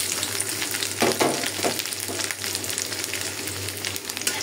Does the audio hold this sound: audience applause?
no